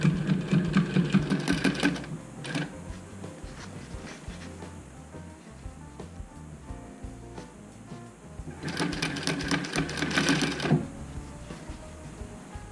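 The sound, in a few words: sewing machine stitching fabric for a face mask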